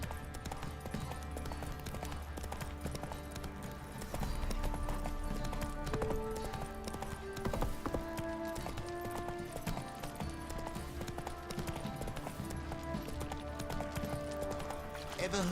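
Hooves of the horse Roach clip-clop at a steady trot in The Witcher 3, a moderately loud rhythmic patter running under game music and a voice talking.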